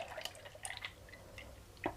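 Syrup for a tres leches cake is scooped out of a container, making faint irregular drips and small liquid splashes, close and quiet, with no talking.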